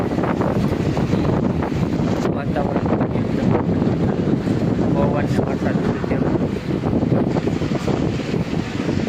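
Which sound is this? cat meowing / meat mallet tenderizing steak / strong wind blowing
strong wind blowing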